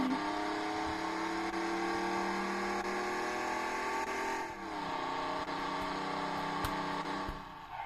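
A car drifting in a racing video game, its engine droning steadily at a sustained high pitch with a brief dip in revs midway, loud and continuous with no talk.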